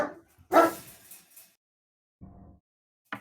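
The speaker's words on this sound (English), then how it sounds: "that time that's a real bark because I heard a car door close" A dog barks indoors, one loud close bark followed by a softer second bark and the start of a third, with no talk over them.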